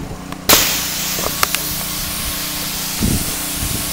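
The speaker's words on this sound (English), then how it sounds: "Right now I have Houston doing an initial rinse." Water spray hisses steadily against vinyl siding during an initial rinse, starting abruptly and running loud and continuous, with a few brief knocks and a faint sputter partway through.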